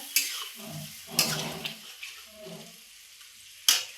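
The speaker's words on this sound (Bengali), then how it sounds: "বানিয়ে রাখা সসের পেস্ট ঢেলে কিছুটা নাড়াচাড়া" A prepared sauce paste with a little water goes into a pan and is stirred, producing sizzling bursts, a gentle bubbling hiss and sharp spatula clacks.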